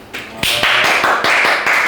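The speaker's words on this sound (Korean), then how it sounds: "자, 박수!" Short burst of hand claps from a small group, a teacher's class cheering a student on a Korean language test, several sharp claps in quick irregular rhythm, close and loud.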